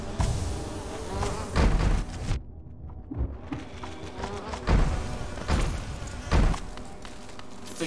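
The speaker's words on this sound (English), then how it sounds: "they angered the big bee." Angry giant bee in a video game, buzzing loudly and continuously with swelling surges and a few heavy thuds mixed in, and no talking.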